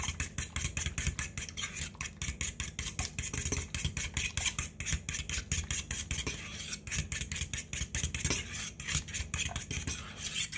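Sweet potato cornbread batter is stirred in a bowl with a utensil, giving quiet, rapid, rhythmic scraping and clinking strokes that continue steadily and close up, with no talking.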